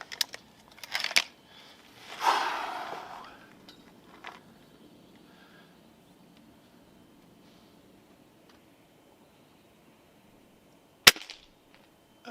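A Gamo Swarm Magnum Pro 10x Gen 3i air rifle firing a .177 pellet at 25 yards: one sharp, loud crack near the end, after a few earlier quieter clicks and rustles, with quiet between.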